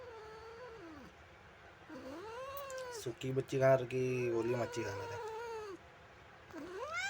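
A cat meows several times with rising and falling cries, close by, while a person speaks between and over the calls.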